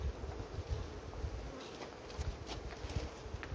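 Honey bees buzz in a steady, dense, low drone around a hive frame, with a few faint knocks underneath and no talk.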